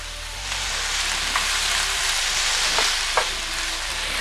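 A salted chicken mixture for chicken kothu roti gently boils in a pan, giving a steady close hiss with a few soft pops scattered through.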